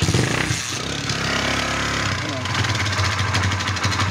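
A motorcycle engine idles loudly close by, a throbbing low exhaust rumble with a brief rise in revs partway through.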